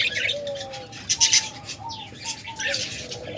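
Pet lovebirds or cockatiels kept in pairs give a quick run of short chirps and thin whistled notes up close, with a few soft flutters of wings.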